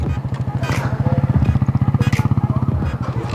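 Yamaha Raider 150 motorcycle engine idling and revving up close in a steady rapid pulsing putter, with brief louder blips, as people talk excitedly nearby.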